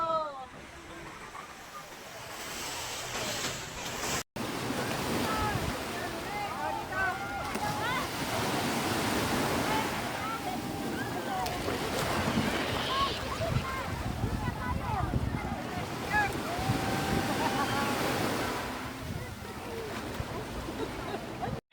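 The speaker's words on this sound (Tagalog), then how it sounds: "nakikipagbunuan kami sa malalaking alon" Large waves surging and crashing at Wanli beach in Taiwan make a broad, washing roar that swells and recedes, with wind buffeting the microphone and people talking and shouting over the surf.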